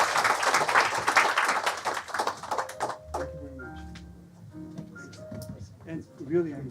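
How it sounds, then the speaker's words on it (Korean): Audience applause for forum panelists at a global forum session, a dense burst of clapping that fades out after about three seconds, followed by quieter room sounds and a voice speaking. "박수로 환영해 주십시오"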